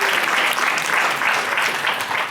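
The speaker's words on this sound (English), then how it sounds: "That deserves a round of applause." Steady applause from an audience at a founders panel lecture, dense even clapping filling the whole stretch without a pause.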